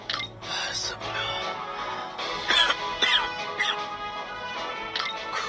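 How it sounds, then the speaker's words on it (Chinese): Coughing in a QQ Speed Mobile game cutscene, a man with a lung ailment hacking repeatedly in short harsh bursts at close range, with faint breathy sounds between coughs. "咳嗽的都走不动道了"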